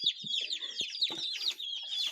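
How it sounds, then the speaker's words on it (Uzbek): Several small chicks chirp in rapid high peeps, close by and continuous, with faint low clucks or bumps in between. "Jo'jalar chekirmoqani"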